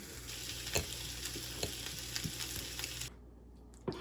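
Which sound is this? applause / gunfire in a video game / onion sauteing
onion sauteing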